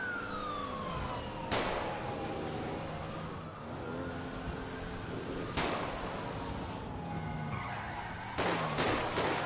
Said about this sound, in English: That siren scared the fuck out of me.